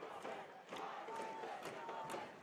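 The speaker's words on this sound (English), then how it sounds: "Great crowd." Stadium crowd at a USL playoff soccer match between OKC Energy FC and Colorado Springs Switchbacks FC, a distant, faint roar of cheering and shouting that rises and falls in short swells.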